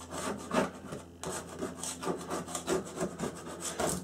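Masking tape is scraped off a cutting mat in a quick, rhythmic series of close, rasping strokes, about a dozen in four seconds, with a short pause near the start.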